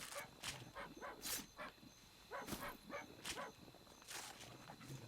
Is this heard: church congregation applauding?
no